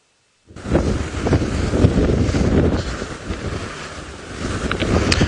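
Strong gusts of wind buffet the microphone on a safari drive in Djuma game reserve, Sabi Sand, in a steady, roaring rush that swells and eases slightly, loud and continuous with no other sounds.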